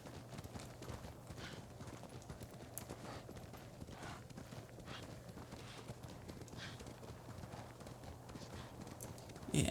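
Horse hooves clip-clop in a steady galloping rhythm while riding through a game world in Ghost of Tsushima, continuous and fairly close, with an occasional whinny.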